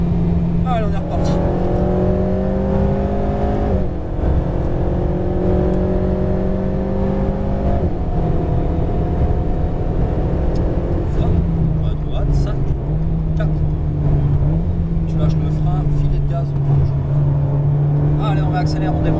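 An Alpine A110R race car drives on a circuit, its engine droning loud and steady from inside the cabin, pitch climbing through the gears with brief drops at shifts, while an instructor speaks over it.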